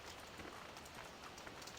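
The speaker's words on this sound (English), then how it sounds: "I'm going to stay inside my shed here because it's raining" Rain falling on a farm shed in a farming video game, a faint steady hiss of drops with no clear individual hits.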